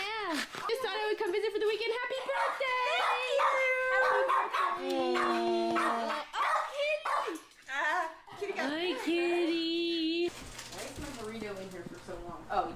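An excited dog howls, barks and whines in long rising and falling cries, close and loud, mixed with people talking over it.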